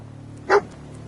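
Dogmeat, the dog in the Fallout 4 video game, lets out a single short bark over a quiet, low background hum.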